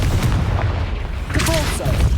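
In the Hogwarts Legacy video game, a Confringo fire spell bursts in a couple of heavy booming impacts amid ongoing combat noise, close and loud, with a short whistling zing between them.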